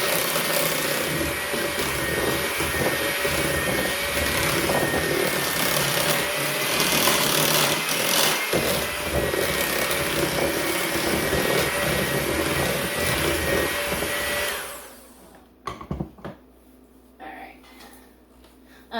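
An electric mixer beats gluten-free lemon pound cake batter as flour is added, giving a steady, close whirring drone for about fifteen seconds before it cuts off to near quiet with a few light knocks.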